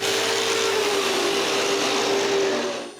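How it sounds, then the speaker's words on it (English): An orbital sander works over a wooden cribbage board, a steady loud whir with a constant hum that holds evenly for the whole stretch, then fades slightly at the end. "I sand it all with the orbital sander."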